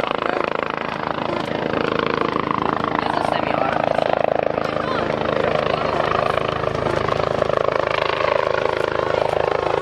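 A BK-117 helicopter flies a display at the SAAF Museum airshow, its rotor beating and turbine roaring steadily and loud throughout, while a commentator talks over it.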